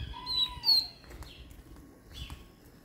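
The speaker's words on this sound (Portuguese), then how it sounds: "Ele tá cantando muito, mas ele não tá aí no fio ainda" A white-throated seedeater (golinha) sings at a bird fair in Jaboatão: a few short, fairly faint whistled notes and chirps early on, set against steady low background noise from the market.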